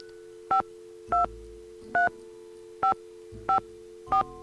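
Six evenly spaced telephone keypad tones beep in a steady rhythm as a number is dialed on a phone in a Nancy Drew video game, clear and alone over a faint hum.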